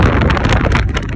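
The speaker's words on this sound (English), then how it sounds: "Boy, windy." Strong prairie wind beside a busy road near Rawlins, Wyoming buffets the microphone in loud, continuous gusts, roaring and rumbling throughout.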